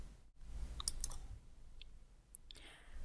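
A few faint, sharp mouse clicks on the Optimize button of the Solver optimization software, scattered over a soft background hush with no talking.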